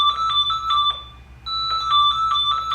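Dahua analog intercom monitors ring with an incoming call, a bright electronic trill sounding in bursts with a short pause partway through, fairly loud and close, with no talking over it.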